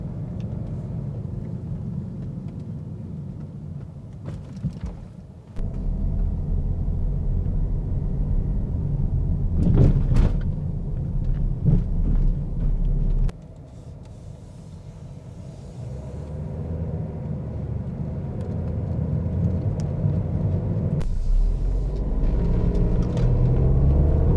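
A car rolls over speed bumps at 20 km/h in a quiet, sound-deadened cabin, a low steady road rumble broken by a few dull thumps and jolts as the wheels cross the humps.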